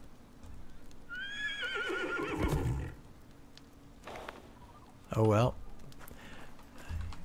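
Horse in a survival video game giving a loud whinny and later a sharp snort or neigh, with hoof clip-clops in between and someone briefly talking.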